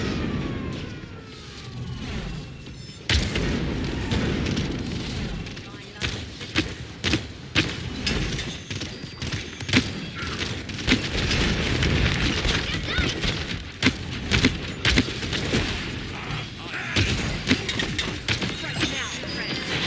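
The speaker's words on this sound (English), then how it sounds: "Barrage incoming!" Barrage explosions burst repeatedly in a video game battle, sharp booms and cracks striking at irregular intervals over a constant roar of game noise. Announcer-style voice lines play between the blasts.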